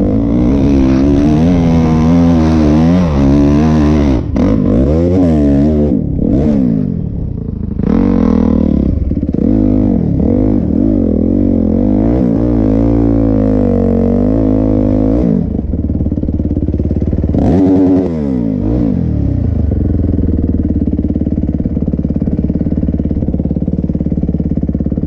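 Honda CRF dirt bike taking a jump on a stony winter mine track, its engine roaring loud and close throughout with repeated revving surges and throttle blips.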